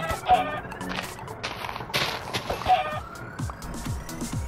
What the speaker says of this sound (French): Allez, on va tuer les poulets.